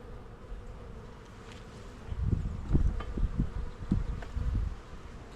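Honeybees in a hive box, a low buzzing hum with swelling bursts of activity in the second half, close, with a faint steady background and no talk.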